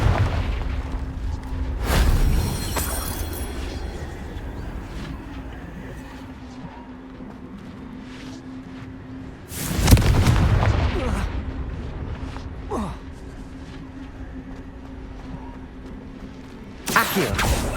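Confringo blast spells from the video game Hogwarts Legacy go off as three heavy, booming explosions spaced several seconds apart, each a loud burst that fades into rumbling game ambience.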